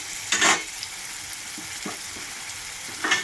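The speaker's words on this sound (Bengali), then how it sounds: "শাপলা ভাজাটা তোমাদেরকে দেখাবো" Water lily (shapla) stems frying in a pan, with a low, steady sizzle broken by a few louder bursts of crackle and stirring scrapes near the start and end.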